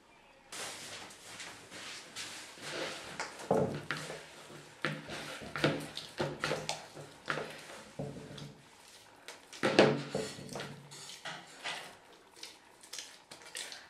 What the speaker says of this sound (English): I'm now going to add a tablespoon of olive oil to this and knead it for about 5 minutes